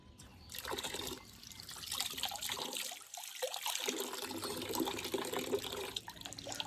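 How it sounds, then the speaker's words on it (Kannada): Tap water runs steadily while curry leaves are rinsed, a continuous trickling splash that briefly thins out midway before resuming, close and fairly loud with no talking. "ಹಾಗೆ ಸೊಪ್ಪು ತೊಳ್ಕೊಳ್ಳೋಣ, ಕರ್ಬೇವಿನ ಸೊಪ್ಪು."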